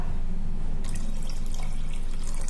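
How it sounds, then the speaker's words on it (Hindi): Water poured into a cooking pot of soybean and chana dal, a steady close splashing trickle running for a couple of seconds with no voices. "आप देख सकते हो मैं पानी ऐड कर रही हूँ"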